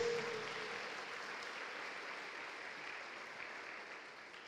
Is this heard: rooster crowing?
no